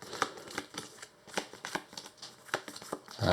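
Cards from an Arkham Horror card game are shuffled in a series of quick, close riffling bursts with short gaps between them, crisp and fairly quiet, with no talk.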